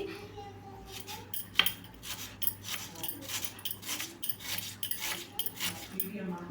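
Onion being sliced into long strips with a knife for a Telugu bitter gourd karam dish, giving repeated close crisp cuts and clinks on a board, steady rhythmic chopping with faint background hum.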